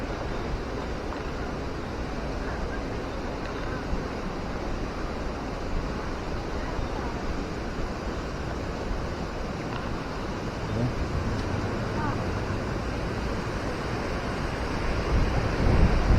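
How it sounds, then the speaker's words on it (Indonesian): A waterfall at Lembah Anai, West Sumatra, roars steadily and loudly, a continuous rushing wash of water that barely changes from start to finish. "penampakan air terjun Lembah Anai atau air mancur Lembah Anai"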